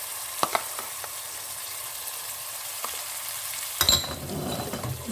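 Chopped canned tomato puree, two tablespoons, hitting a hot pan for aloo keema, giving a soft steady sizzle with a few utensil clicks, then a louder burst of hissing and scraping near the end.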